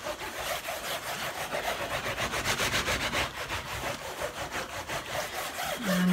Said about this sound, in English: you're going to keep rubbing until your felt comes together